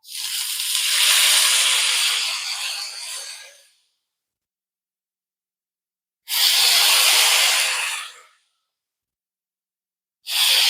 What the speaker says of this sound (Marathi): आपलं तवा तापलेलं आहे आता आपण ह्याच्यावर हे डोसा व्यवस्थित सोडून घेऊ